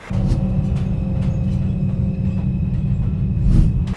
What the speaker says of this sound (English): diegetic sounds such as the BTS train coming into the station